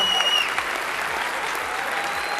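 Loud, steady applause from an audience at a live Starfield Direct showcase presentation, dense clapping sustained throughout with a faint crowd murmur underneath.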